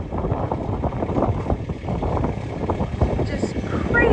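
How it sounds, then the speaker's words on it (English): Strong gusty wind roars across an open pond on a stormy night, a dense continuous rush buffeting the microphone with no pauses, whitecaps churning the water nearby. "Just crazy windy out here tonight"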